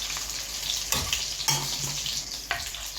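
Onions sizzling and frying in a pan for an eggplant curry, a steady crackling hiss with a few brief stirring scrapes of a utensil, close and clear, no voices.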